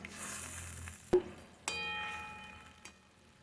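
Pabda fish pieces go into a pan of mashed tomato gravy with a faint, steady sizzle, marked by two sharp splashing thuds and a softer knock later, with no talking.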